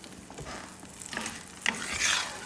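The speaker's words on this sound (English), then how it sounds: "these are sauteing down pretty nice" Vegetables sauté in a skillet for a cheesy chicken pasta, giving a steady close sizzle that swells at intervals as the spoon stirs through them. No one speaks.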